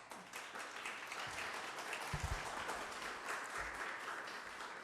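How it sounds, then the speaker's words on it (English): A church congregation applauds steadily for the whole stretch, a dense wash of hand claps filling the room evenly from start to finish. "That's the first time anybody's ever applauded before I even gave a sermon"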